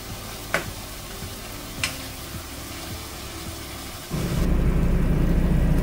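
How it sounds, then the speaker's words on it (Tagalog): Pork belly and aromatics being stirred in a pot, with a couple of sharp utensil clicks against the pot early on, then a steady, louder sizzle that swells and holds through the last couple of seconds. "Halu-haluin natin para magsama-sama ang aromatics at ang pork belly."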